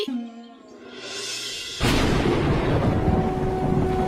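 A cartoon thunderstorm with heavy rain breaks in: after a quieter, tonal opening, a sudden loud crash of thunder gives way to a dense, steady roar of downpour.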